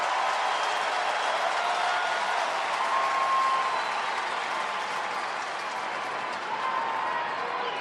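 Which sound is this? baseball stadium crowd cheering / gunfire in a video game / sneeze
baseball stadium crowd cheering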